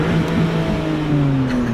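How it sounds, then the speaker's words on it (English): A car engine held at high revs against its rev limiter, a loud, sustained droning note with a slight sag in pitch, close by and with no talk. "Bouncing off the rev limiter?"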